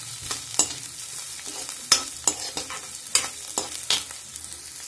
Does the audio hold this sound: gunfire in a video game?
no